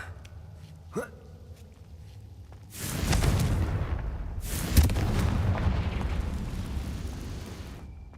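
A Confringo fire spell from the Hogwarts Legacy video game goes off with a loud burst, followed by a second explosive blast and a long rumbling, crackling tail, after a quieter stretch of game ambience.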